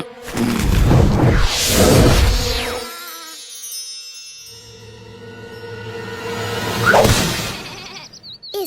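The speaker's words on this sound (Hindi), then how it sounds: "इस बार मैं सुदामा की नाक के नीचे से ये सारी भेड़ें चुरा ले जाऊंगा।" Cartoon sheep in an animated tale of young Krishna bleat loudly in a wavering burst near the start, then again after a pause, joined by a swishing whoosh effect.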